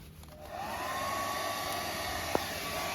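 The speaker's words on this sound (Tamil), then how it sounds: "இது ஹேர் ட்ரையர் போட்டோம்னா காஞ்சிடும்" A hair dryer blows steadily at a pet after its bath, a constant close whooshing hum with a faint whine, broken only by a brief click near the end.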